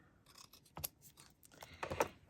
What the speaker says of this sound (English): Let's cut this one in half.